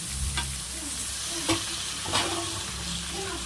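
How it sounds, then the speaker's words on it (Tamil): Chicken pieces going into a simmering chicken curry with drumstick and potato, giving a steady sizzle with a few brief stirring scrapes against the pot, close by and alone. "இந்த டைமில் நம்ம வந்து சிக்கனும் சேர்த்திக்கலாம்"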